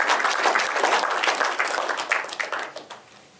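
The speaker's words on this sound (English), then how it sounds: "give yourselves a round of applause" An audience at a Pacific Palisades community meeting on homelessness breaks into dense, steady clapping nearby, which thins and fades out over the last second or so.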